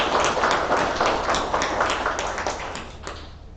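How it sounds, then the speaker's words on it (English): Dense audience applause at a nursing pinning ceremony, a steady wash of many hands clapping that holds strong and then begins to fade toward the end, with no voices over it. "give her another round of applause"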